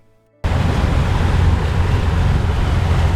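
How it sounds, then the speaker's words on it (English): Steady, loud wind roars across the microphone aboard a boat on Lake Michigan, with water rushing beneath, continuous after a brief quiet start. "they were not holding up to the wind that you hear in the background"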